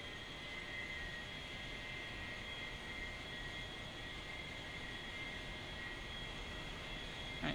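An aircraft engine is throttled up while the brakes hold the plane in place, giving a steady, loud roar with a high whine that holds level throughout.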